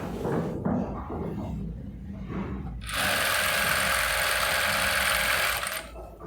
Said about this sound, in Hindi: अब हम यहाँ पे ना सिलाई स्टार्ट करेंगे।